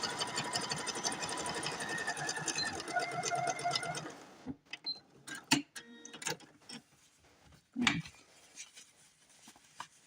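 Sewing machine running steadily as it zigzag stitches stuffed doll legs, a fast rhythmic mechanical whir for about four seconds, then stopping, followed by a few scattered clicks and handling knocks nearby.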